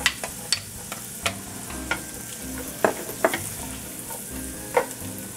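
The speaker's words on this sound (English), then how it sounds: "And I'm going to add garlic." Onion and garlic frying in melted butter for collard greens, a steady loud sizzle with repeated stirring knocks and scrapes of a utensil in the pan, close up and without talk.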